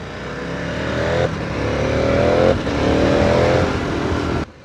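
Motorcycle engine riding down the Mendel Pass in South Tyrol, a steady loud drone with rising harmonic whines as it accelerates through gears, continuous and close for several seconds, then cutting off abruptly at the end.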